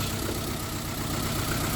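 A car engine with a fault that makes it weak and shaky idles steadily in a dense, constant rumble. It is close and uninterrupted throughout, with no voices.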